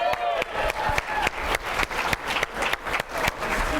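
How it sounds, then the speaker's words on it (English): A seminar audience applauding a payout figure at a sales pay-plan presentation, with dense, steady clapping from a sizable crowd that fills the room for several seconds, with a few louder individual claps standing out. "Can everybody give that a big round of applause?"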